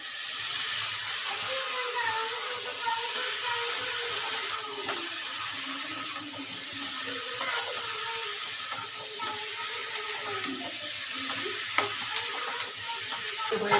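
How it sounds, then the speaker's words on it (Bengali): Steady sizzling of young jackfruit pieces frying in hot oil, continuous and close, with occasional scraping of a spatula stirring the pan. "ইঁচড়গুলো ভাজা নেই তাই আমি ইঁচড়গুলো দিয়ে ভেজে নিচ্ছি দেখো"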